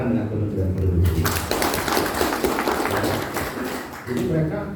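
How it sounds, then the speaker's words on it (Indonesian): A burst of clapping at a speech for new entrepreneurs rises for a few seconds between stretches of a nearby voice talking, then fades as speech resumes. "Untuk itu kita tepuk tangan dengan Kementerian Perindustrian."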